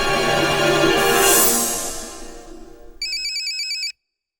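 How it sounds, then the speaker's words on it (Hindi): A phone ringtone signals an incoming call from the chief minister: a bright, pulsing electronic ring lasting about a second that cuts in after a fading musical swell and then stops abruptly. "अरे मुख्यमंत्री जी का फोन।"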